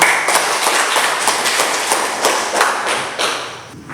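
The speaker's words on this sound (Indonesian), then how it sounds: "Baik, tepuk tangan untuk tahu." A classroom of high school students claps for a classmate during a lesson, a dense burst of many hands at close range, steady and loud for several seconds, with no talk.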